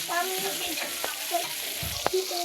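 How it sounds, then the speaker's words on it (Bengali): Fish frying in hot oil in a wok, a steady crackling sizzle with a couple of sharp pops and a clunk of the pan, no talking. "তো আমি মাছ উল্টাই দিলাম"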